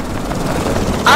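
Helicopter in a video game, a steady low rotor and engine drone filling the short stretch, ending in a sudden louder burst.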